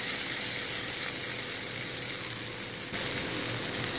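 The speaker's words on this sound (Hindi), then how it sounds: "इस पर हम ये रई जीरे मिर्ची वाला तड़का डाल लेंगे" Steady, loud sizzling of mustard seeds, cumin and chillies hitting hot oil as tempering for chicken Kolhapuri, a dense continuous crackle with no voices.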